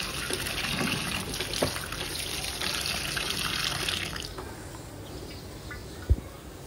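Water from a tap pours and splashes over cut pointed gourd in a bowl, a continuous close gushing that drops off partway through, leaving a softer trickle and a light knock.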